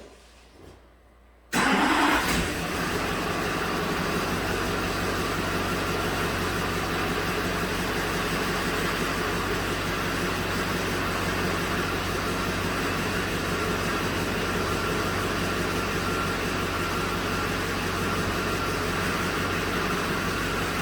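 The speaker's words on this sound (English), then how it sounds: "So I'm going to start the vehicle and turn the steering back and forth." A 2006 GM truck engine cranking briefly and catching, then settling into a steady, loud, close idle that runs on unchanged, with no talking.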